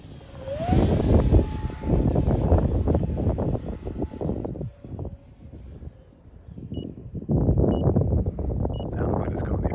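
Vertigo mini 50mm electric ducted-fan RC model plane flying outdoors, a steady high whine with tonal sweeps as it passes, fading and returning, with wind noise and a voice talking over it.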